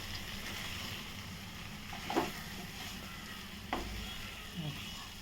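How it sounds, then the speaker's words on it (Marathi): Dum aloo is stirred in a pan over a low, steady sizzle, with a few distinct spoon scrapes and knocks against the pan at irregular intervals. "परतूया"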